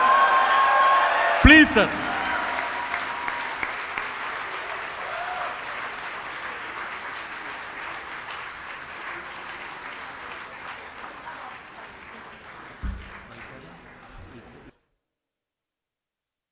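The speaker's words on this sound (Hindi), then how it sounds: "जोरदार तालियों से स्वागत किया जाए सुरेंद्र शर्मा सर का" An audience at a poetry mushaira in Kuwait applauds to welcome comedian-poet Surender Sharma, a steady, dense round of clapping that slowly fades over about fifteen seconds, with a brief spoken interjection near the start.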